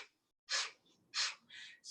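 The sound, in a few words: Kapalabhati breath of fire, quick exhales through the nose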